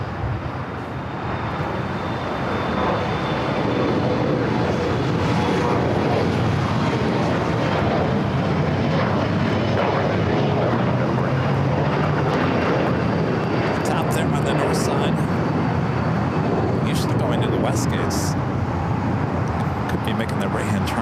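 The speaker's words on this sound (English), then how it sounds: "heading to Guadalajara in the converted A330-200, lighting up on the radar, should be taking off here on the south side" A converted Airbus A330-200 takes off from LAX's south side bound for Guadalajara, a broad, loud, steady engine roar sustained throughout, with traffic noise beneath and voices talking over it.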